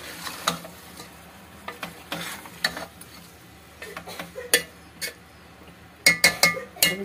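Chicken and whole garlic cloves fry together in a pan for Bihari-style chicken curry. A constant sizzle sits under irregular scrapes and clinks of a spoon stirring, with a quick cluster of clatters near the end.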